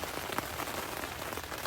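Rain starting to fall on a camping tent, a steady close patter of drops across the fabric, even and continuous, with no voices.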